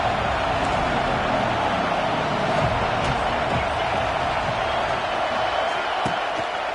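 A football stadium crowd roars for the home defense before a third-down play, a dense, steady wash of cheering and noise that stays loud throughout with faint thuds and talk beneath.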